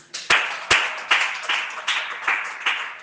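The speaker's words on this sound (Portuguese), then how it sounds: "Palmas para Jesus." Slow, rhythmic hand clapping from a church congregation during a doctrine service, sharp evenly spaced claps about every 0.4 seconds, close and without speech.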